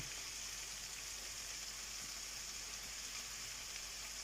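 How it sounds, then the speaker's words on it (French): Sliced leeks sweat in a frying pan with a soft, continuous, even sizzle, faint and steady throughout with no talking. "Je vais les mettre à suer à la poêle pendant à peu près 15 à 20 minutes."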